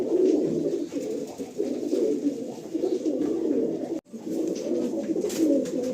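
Domestic pigeons cooing inside a loft near an airport gate, a dense continuous chorus of overlapping low coos from many birds nearby, with a brief pause near the end before the cooing resumes.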